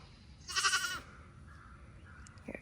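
A pet goat named Sansa lets out one loud, harmonic bleat at close range, lasting about half a second, followed by quiet with faint background noise and a brief small sound near the end.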